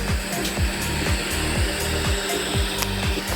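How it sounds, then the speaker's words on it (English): An Ender 3 S1 3D printer begins its print, its stepper motors giving a steady whirring hum marked by regular rising chirps about every half second, with faint clicks above, close and continuous. "it goes to the middle and it'll start printing now"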